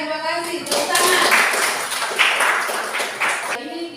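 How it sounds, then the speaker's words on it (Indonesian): Students in a classroom clap together in a burst of brisk, fairly close hand claps lasting a few seconds, with a teacher's voice before and after. "Tepuk tangan."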